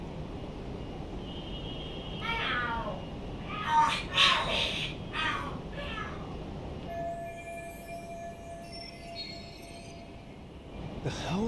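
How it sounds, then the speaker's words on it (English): Cats screech and yowl while fighting in the video game Lost Judgment, with wavering high cries rising over a steady background hum and dropping away to a long, thin tone, and voices talking underneath. "The hell? Are there cats fighting?"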